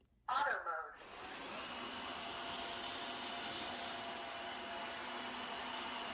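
A vacuum cleaner in turbo mode sucks up dry oatmeal, giving a steady loud whine after a brief rattly start, with the motor holding a constant roar throughout.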